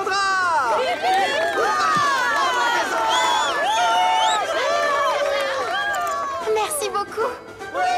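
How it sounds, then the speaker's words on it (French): A crowd cheering loudly for a new champion, sustained shouts and whoops with squealing, excited voices, steady and close throughout before tapering near the end. "veuillez applaudir chaleureusement notre nouvelle championne, Cassandra!"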